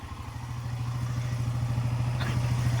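A smoking motorcycle engine idles close by, a steady low putter of rapid, even pulses that grows slightly louder.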